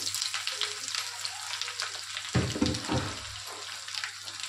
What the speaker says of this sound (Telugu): ఇవి వేగుతుండగానే ఇందులో మనం సన్నగా తరిగి పెట్టుకున్న ఉల్లిపాయ ముక్కలు వేసుకోవాలి.